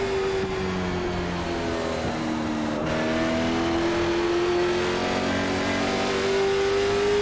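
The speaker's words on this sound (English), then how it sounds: "We're getting really aggressive on throttle off the corner" A late model stock car in a racing sim at Stafford pulls hard off a corner under aggressive throttle, its engine droning loud and steady with a rising pitch, alone and close.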